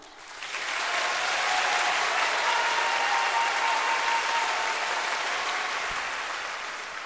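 A large concert hall audience at a live show breaks into loud, sustained applause that swells quickly and stays full and dense, easing slightly toward the end.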